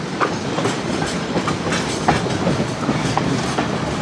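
West Side Lumber Shay #9 steam locomotive on the Georgetown Loop railroad, rolling with a steady rumble and rhythmic clickety-clack of wheels over rail joints, continuous and moderately near throughout.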